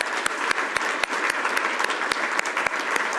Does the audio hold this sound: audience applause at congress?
yes